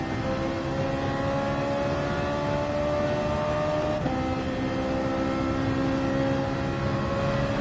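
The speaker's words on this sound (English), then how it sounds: "You can't miss shifts in the Ferrari. They're very quick. Does not want to be over-revved." A Ferrari engine in the Gran Turismo 7 racing game, played on PS5, holds a sustained high-pitched whine that climbs steadily in pitch, then drops sharply on a quick gear shift and climbs again, loud and alone.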